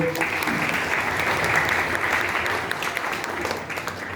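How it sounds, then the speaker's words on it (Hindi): A crowd of wedding guests claps steadily for several seconds, a dense, even wash of applause close by with no break. "ताली बजाए सब लोग।"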